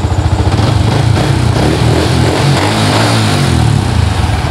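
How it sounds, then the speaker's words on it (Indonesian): A Yamaha Vixion motorcycle engine idles steadily during a test, a close, loud, continuous low rumble with an even pulsing beat and no talking. "Suara mesinnya masih bersih ya teman-teman."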